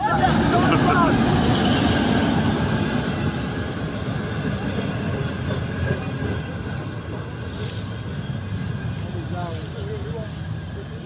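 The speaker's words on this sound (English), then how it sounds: "Yes, this is Rotimi train station. The train has just arrived." A train arriving at Rotimi train station, heading to Warri: a broad low rumble and rolling rail noise that slowly eases over several seconds, with people talking and crowd babble around it.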